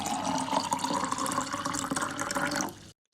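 Water pours steadily from a kettle into a glass, a continuous bright splashing and filling sound heard alone for nearly three seconds before it stops abruptly.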